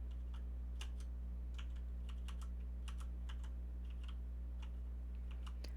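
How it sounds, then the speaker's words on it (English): Fingers type on a computer keyboard in an irregular run of soft clicks and taps, close up and alone over a low steady hum. "I am typing on a keyboard"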